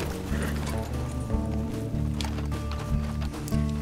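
A horse gallops steadily in Red Dead Redemption 2, its rapid hoofbeats forming a continuous loud rhythm over a low game soundtrack drone throughout.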